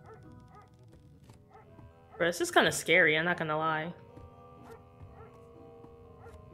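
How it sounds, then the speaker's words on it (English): Dog barking in a horror video game, a burst of several loud, close yips and barks over about two seconds, with a person talking over the barks. "Bork bork, dog."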